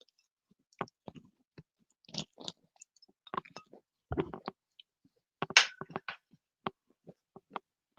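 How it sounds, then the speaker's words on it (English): Chewing food close to the mic, a series of wet, crunchy bites and mastication sounds in irregular bursts separated by short quiet gaps. "See if you find the sound of chewing annoying."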